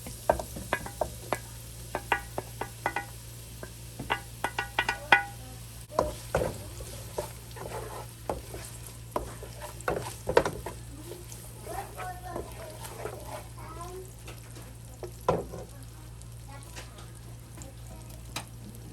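Onions and shallots sizzle and get stirred in olive oil in a home kitchen, a soft frying hiss broken by clinks and scrapes of a utensil against the pan, fairly quiet and close.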